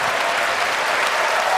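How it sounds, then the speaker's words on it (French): An audience at a French business awards ceremony applauds, a dense, even burst of clapping from many hands that fills the moment without pause. "Applaudir."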